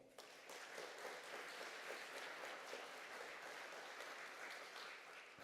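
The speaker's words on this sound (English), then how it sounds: "Folks, can we get a round of applause for Alexis and Jen?" A round of applause from an audience at a live museum science event welcomes two guests, a steady, dense wash of clapping that fills the whole stretch at even loudness, with no talk over it.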